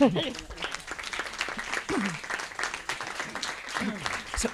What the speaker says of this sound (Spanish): Un aplauso le damos